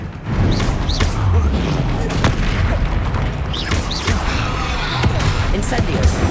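Blasting-spell explosions in the Hogwarts Legacy wizarding game, several sharp booming bursts scattered across the stretch amid ongoing combat noise, fairly loud and close.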